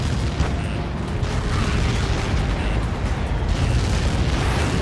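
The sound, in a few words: explosion on impact in video game Ace Combat 7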